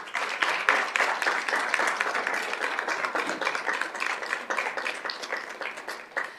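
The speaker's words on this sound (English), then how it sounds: "if you would stand so that we may applaud you" Audience applause at a school district governing board meeting honoring staff members, steady moderate clapping from a modest crowd in a room, continuous for several seconds with sharp individual claps distinct.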